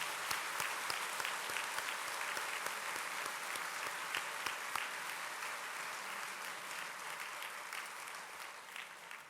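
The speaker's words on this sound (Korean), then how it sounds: "크게 한번 박수해 주시기 바랍니다" A church congregation at a memorial worship service applauds, with broad steady clapping from many people filling the hall, slightly distant and continuous throughout, without talk.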